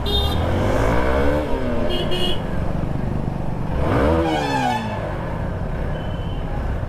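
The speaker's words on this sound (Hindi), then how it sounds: "हाँ ज़्यादा रेप नहीं करूँगा भाई गर्म होगी ना गाड़ी" A hot motorcycle engine idles close by and is revved in two rising swells while stopped near a crowded railway crossing, a steady rumble running underneath throughout.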